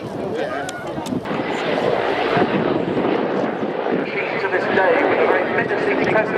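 A military attack helicopter with stub wings carrying weapons pylons and stepped tandem cockpits performs a flying display at the RIAT 2015 air show, its loud continuous rotor and engine roar filling the air under a commentator's voice.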